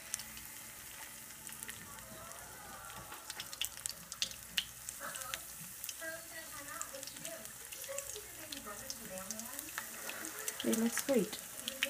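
Paneer avocado cutlet patties fry in hot oil in a pan with a steady, close sizzle throughout, and a voice speaks briefly near the end.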